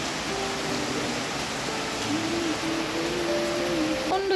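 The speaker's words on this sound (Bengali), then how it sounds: "জোরে বৃষ্টি পড়ছে" Steady, dense hiss of heavy rain pouring down, continuous and even, with a faint tonal hum drifting underneath.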